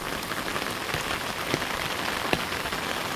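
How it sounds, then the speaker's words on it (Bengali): Heavy downpour pours steadily in Rajshahi in the evening, a dense, even hiss of rain on surfaces with occasional louder drops hitting nearby. "সন্ধ্যার পর থেকে রাজশাহীর অঞ্চলে মুষলধারে বৃষ্টি চলছে"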